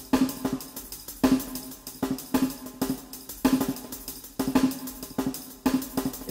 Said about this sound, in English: Now if I put all the snare drums together,